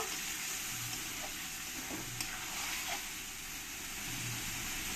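Chicken masala frying in a pan with a splash of water, stirred steadily: a continuous hissing sizzle with soft scraping strokes and occasional light clinks, no talk.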